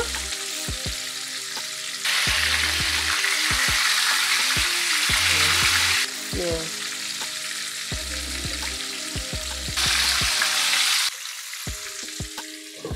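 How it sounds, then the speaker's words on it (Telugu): Brinjal (eggplant) pieces fry steadily in hot oil with a loud, continuous sizzle that swells in bursts as pieces are flipped. Spatula taps and clinks on the pan recur throughout. "ఒక సైడ్ వేగిందండి, ఇంకొక సైడ్ తిప్పించుకుంటున్నా"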